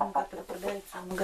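Hens in a winter eco-village clucking close by in short, repeated throaty bursts, forming a quick irregular run of calls.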